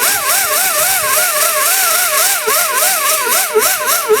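A rotary sanding tool roughs up the inside of a tire for a patch, giving a loud, high whine that wobbles rhythmically up and down in pitch as the tool is pressed and moved over the rubber.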